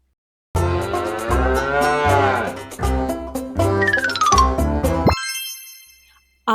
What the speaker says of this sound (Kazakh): Бұл сиыр.